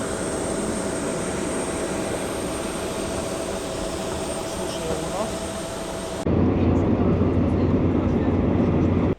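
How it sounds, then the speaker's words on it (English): A passenger airplane at Warsaw airport gives off a steady, dense engine roar that holds constant, then steps up into a heavier low rumble near the end. "This is the plane right here"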